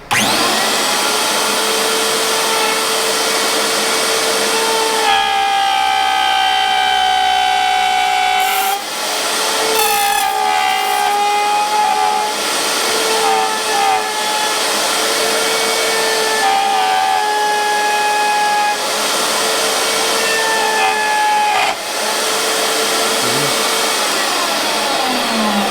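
Handheld router with a bearing-guided bit trimming the edge of a wooden round pocket tray along a template, a loud, steady high-pitched whine running continuously with slight dips in pitch as the bit bites into the wood.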